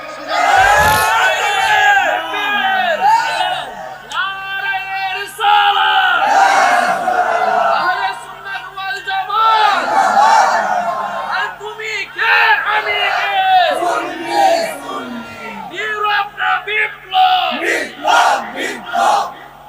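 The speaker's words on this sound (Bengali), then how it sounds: "হাত তুলে কন, স্লোগান দেন।" A large crowd at a religious gathering chants slogans in unison, loud surging shouted phrases rising and falling in waves, with a leader's voice calling between them.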